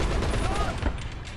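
A tank's machine gun in the War Thunder ground battle game rattles in a dense, continuous burst, loud and booming low, with the gunfire fading slightly toward the end.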